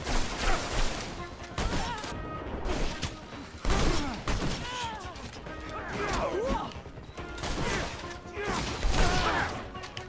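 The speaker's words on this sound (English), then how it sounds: "Walking into a war zone with all this gunfire." Gunfire in a war zone in the video game The Technomancer, a dense, continuous barrage of shots, impacts and crashes with bursts of yelling and voices mixed throughout.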